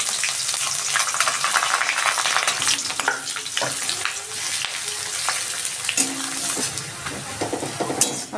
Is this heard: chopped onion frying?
yes